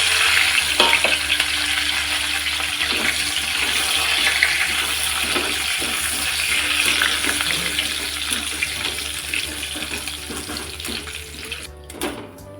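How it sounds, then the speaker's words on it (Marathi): Curry leaves frying in hot oil for a sago chivda produce a dense, steady crackling sizzle with a constant low hum beneath, close and fairly loud, with a few clicks and the sound cutting off abruptly at the end; no one speaks. "आता आपण कढीपत्ता फ्राय करून घेणार आहोत"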